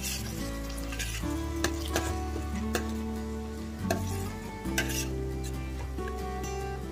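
Tomatoes and onions fry in a pan for a South Indian drumstick masala, with a steady sizzle under repeated metal spoon scrapes and clinks against the pan, plus a low sustained hum.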